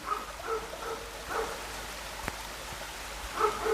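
Steady patter of rain falling in Firaja, Kosovo, with a faint dog barking intermittently in the distance.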